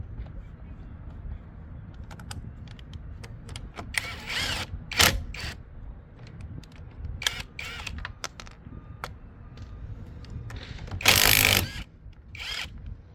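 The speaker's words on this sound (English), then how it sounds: "This impact gun I bought for 40 quid off of Amazon." A cheap Amazon-bought impact gun removes a wheel nut, firing several short, loud rattling bursts between clicks and handling noises, with talk throughout.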